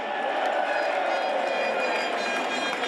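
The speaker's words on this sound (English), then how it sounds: "A crowd of Brexiteers cheer Tony Blair." A crowd of Brexiteers cheering, a steady, dense roar of many voices that holds at an even level throughout with no single voice standing out.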